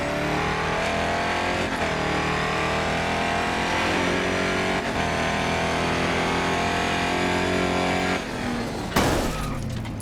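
A V8 Holden race car engine from GRID Autosport in cockpit view drones loudly and continuously, holding high revs with slight pitch shifts, then a sharp crash-like burst near the end.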